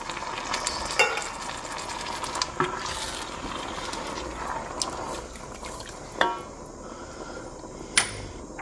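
Two tins of chopped tomatoes cook with softened onions, garlic and celery in a pan, a steady sizzle with occasional clinks and stirring knocks, close up, with no talk.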